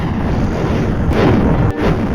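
A continuous, loud rumbling blast of bombs detonating underground in the Roblox game Dig to China, with a dense roar and a brief dip before the booming resumes.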